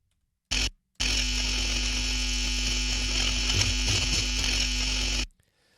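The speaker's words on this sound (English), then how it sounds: "So that is distortion from an amplifier." Harsh amplifier distortion noise roars loud and steady for about four seconds after a brief opening burst, with a strong low hum beneath a dense buzzy wash, then cuts off abruptly.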